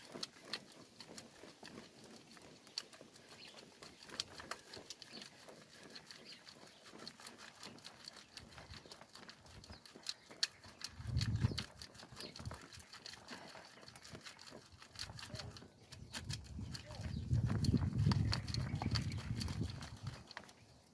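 Garden compost, partly damp and clumpy, riddled through a sieve outdoors, a soft continuous scraping and rattling shuffle of grit with rhythmic shaking bursts that grow louder and fuller toward the end, no talk.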